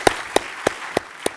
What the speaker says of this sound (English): we should give them a proper round of applause